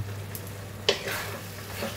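Poppy seed paste (posto) cooking with a little mustard oil drizzled on top, giving a soft, steady sizzle with a brief clatter partway through, fairly close and with no voices.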